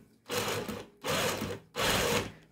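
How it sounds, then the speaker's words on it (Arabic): A sewing machine stitching zigzag cord for a round basket runs in three steady bursts of fast mechanical whirring, separated by short pauses, close and clear with no talking. "وتدخل بس تحت دواسة المكنة. بسم الله، ونبدأ نخيط من اخر فتلة وقفنا عندها"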